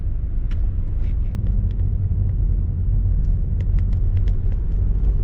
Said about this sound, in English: once the car goes away